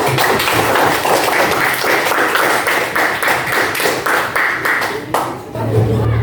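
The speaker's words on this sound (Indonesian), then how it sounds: "Beri tepuk tangan kepada kelompok 4." A classroom of students claps for a presenting group, a dense patter of many hands close by that fills the room, with a few faint voices mixed in.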